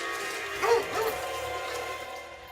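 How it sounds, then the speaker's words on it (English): A dog nearby on a porch at night gives a couple of short yips and whimpers over a faint background hum, with no voices. "his dog nearby"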